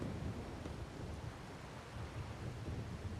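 Steady heavy rain in the video game Wuthering Waves, a dense continuous wash with a low rumbling undertone, filling the scene with no voices.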